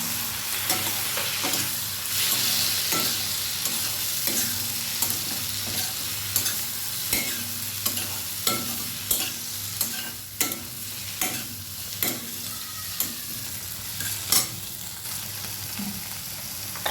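Soybean chunks and ridge gourd sizzle in spiced oil in a pan, with a steady frying hiss broken by regular scraping stirs of a spoon, close and fairly loud, no talking.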